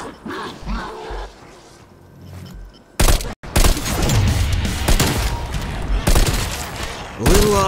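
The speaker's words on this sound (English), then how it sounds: "Submachine gun. Just what I wanted." A submachine gun fires in rapid, sustained bursts in Call of Duty: Black Ops Cold War zombie Outbreak mode, the loud automatic rattle starting abruptly after a quieter stretch and continuing with a brief gap, with a voice speaking early on.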